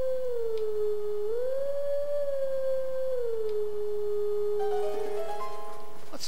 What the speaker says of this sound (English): Howl, Link, howl!